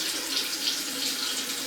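A bathroom sink faucet runs steadily at close range, a continuous hiss of flowing water with no voices.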